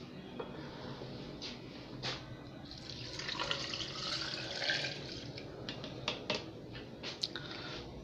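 Purple chicha morada is poured into 400-millilitre cups with a soft, continuous liquid splashing and trickling, faint and nearby, with a few small clinks.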